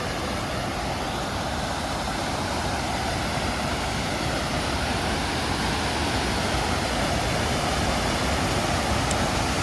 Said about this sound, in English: Powerful rushing water, snow melt.